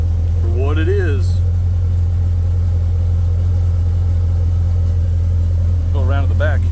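An idling LS-swapped old-body-style truck gives off a heavy, even exhaust rumble close by for the whole stretch, while someone speaks briefly over it at the beginning and again at the end.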